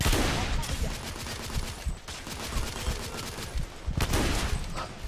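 Shotgun blind fire from cover in the shooter The Order: 1886, loud booming blasts at intervals over a dense rumble of ongoing gunfire and battle noise.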